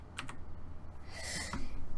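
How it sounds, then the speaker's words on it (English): A few quick key clicks at the start, then a softer hiss and a shuffle of keyboard handling, close and fairly quiet, with no voices. "I'm playing with the keyboard."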